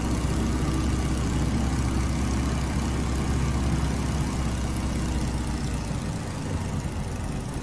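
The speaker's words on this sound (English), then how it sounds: "the engine noise pick up again" A loud, continuous Stearman biplane propeller engine in a flight simulator game drones steadily throughout, rough and low, with no pauses or voices over it.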